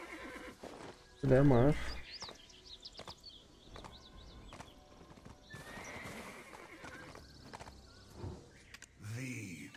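A horse in the online role-playing game Black Desert gives one loud, close whinny early on, followed by clip-clopping hooves, while someone talks over it throughout.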